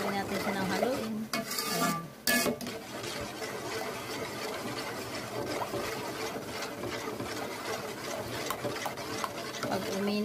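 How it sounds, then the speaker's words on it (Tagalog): Cake batter for a homemade chocolate moist cake being stirred steadily in a pan over heat, a continuous scraping swirl with faint sizzle, briefly pausing partway through. "Haluin natin siya ng haluin."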